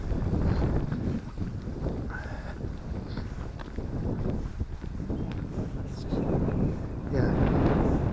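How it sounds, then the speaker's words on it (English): Cold wind buffets the microphone on a countryside walk near trees and a bridge, a steady low rumble with gusts swelling near the end, while people talk over it. "that wind's cold"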